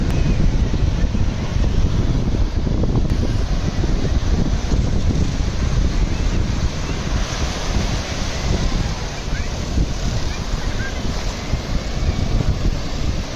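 Sea waves at Ganpatipule beach on the Konkan coast with boat rides out on the water, a steady loud wash of surf mixed with heavy wind buffeting the microphone throughout, and a voice faintly talking underneath.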